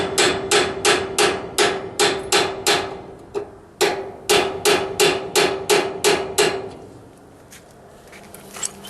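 A hammer taps a steel locking collar onto the shaft of a New Holland 630 baler. About fifteen sharp, ringing metallic strikes come in a quick even rhythm, pause briefly, then resume before tailing off. No voices are heard.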